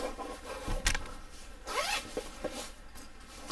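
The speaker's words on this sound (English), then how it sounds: "metal zipper." A metal zipper on an outdoor gear item is pulled in a few quick zips, crisp and close, with soft handling rustles between strokes.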